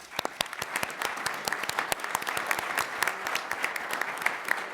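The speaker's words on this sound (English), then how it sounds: "I want to give a round of applause to our presenters" A crowd in a conference hall claps for the presenters, sharp individual claps standing out over a steady, moderately distant wash of applause that continues throughout.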